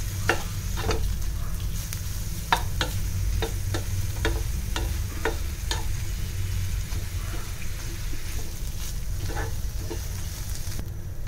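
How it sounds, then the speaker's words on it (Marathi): Steady sizzling of ginger and black pepper frying in a hot pan, with repeated scraping clicks of a spatula stirring throughout. "आता हे छान आपल्याला नुसतं परतून घ्यायचं आहे"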